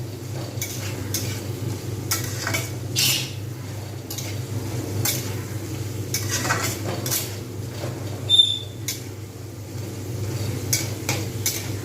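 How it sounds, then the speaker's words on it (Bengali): Bottle gourd curry with green chilli sizzles gently in a pan while a spatula stirs and scrapes it in intermittent strokes, close by, over a low steady hum. "এবার আমি একটু সুন্দর আঁচটা তুলে আর একটুখানি নাড়িয়ে নেব"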